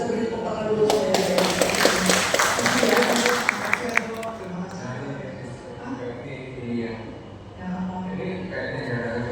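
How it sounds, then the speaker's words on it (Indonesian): Audience applause at a testimony gathering of a Catholic charismatic prayer meeting in a cathedral: a dense burst of clapping fills the first four seconds, then dies away while a voice keeps talking. "Kita beri tepuk tangan dulu ya"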